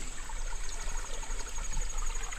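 Creek water runs continuously over stones in a steady, close babbling trickle with no break and no talking.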